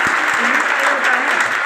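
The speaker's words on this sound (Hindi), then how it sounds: "जोरदार ताली से स्वागत।" Strong, steady applause from a crowd of listeners welcoming an honoured student at a school ceremony for matriculation students, dense clapping running throughout at an even level.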